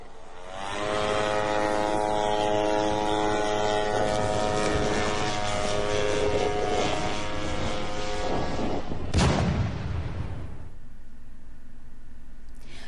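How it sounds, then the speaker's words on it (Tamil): A Rudrastra drone at the Pokhran test range gives a loud, steady droning engine with a strong buzzing whine for several seconds, then sweeps past with a sharp burst and fades away. "இந்த ருத்ராஸ்ட்ரா ட்ரோன் பொக்ரான் வெடிகுண்டு சோதனை தளத்தில் வெற்றிகரமாக இயக்கி சோதனை செய்யப்பட்டது"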